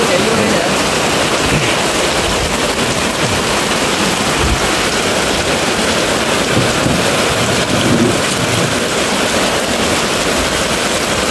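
Heavy early-season rain in Phụng Hiệp, Hậu Giang, a steady dense roar pouring without a break, loud and close throughout.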